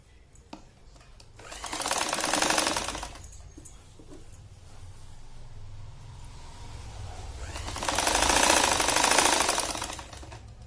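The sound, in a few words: sewing machine stitching the edge of a pillow cover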